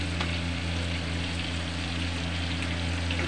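Chicken for a Mughlai malai korma frying in a pan, a steady, close, continuous sizzle with a low hum underneath and no voices.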